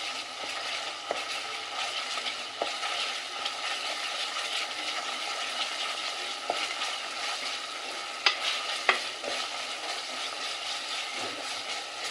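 Ginger garlic paste frying with onions in a pan, a steady dense sizzle that holds evenly throughout, with a few faint clicks and taps of stirring scattered over it.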